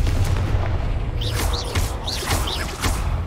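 A blasting spell explodes in the Hogwarts Legacy video game. A heavy low rumbling blast runs under several quick whooshing bursts and pops, loud and close, with no one speaking.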